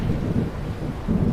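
Thunder during a thunderstorm on the south coast of KZN near Margate, a deep continuous rumble with rolling swells, steady and fairly loud, with rain noise beneath and no talking.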